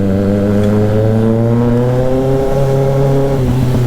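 A motorcycle being ridden in the afternoon hums with a loud, close engine tone that holds steady and then slowly drops in pitch as it eases off, with no talk.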